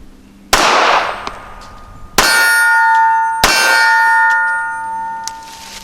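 Three sharp pistol shots from a Ruger Security-380, loud and close, each followed by a ringing metallic decay, the first alone and the last two about a second apart.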